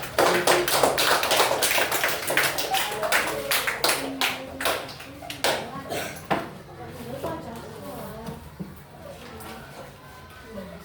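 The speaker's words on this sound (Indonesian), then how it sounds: "Beri tepuk tangan untuk" Students in a classroom break into group applause for the winning team of a quiz, a burst of many hands clapping that starts loud and thins into scattered claps before fading away.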